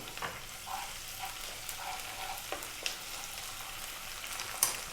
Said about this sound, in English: Now we'll add the 1 tablespoon of garlic ginger paste.